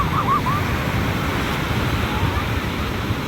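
Sea waves roll in a steady, broad roar with wind buffeting the microphone, continuous and loud, with a brief faint cry near the start.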